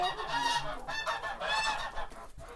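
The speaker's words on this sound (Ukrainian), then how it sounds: "Гарні гуски." Several geese honk repeatedly at close range, loud nasal calls overlapping in quick bursts.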